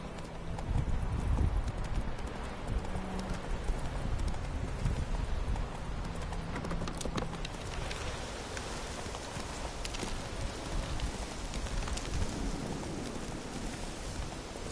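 Horse hooves gallop in The Witcher 3: Wild Hunt, a steady, fairly loud clip-clop rhythm that runs throughout over a constant hiss of rain.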